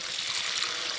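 Water poured into a spiced potato curry in a pan, with fried potatoes already in it: a steady, even hissing stream lasting about a second, close and fairly loud, with no voices.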